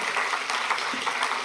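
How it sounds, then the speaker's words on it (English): A crowd clapping steadily throughout, a dense wash of overlapping hand claps with no voices standing out. "You can totally clap for that."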